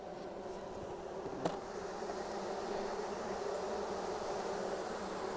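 Dense, steady buzzing fills the air from a swarm of honeybees around a newly installed package hive, loud and continuous from close by, with a faint tap early on.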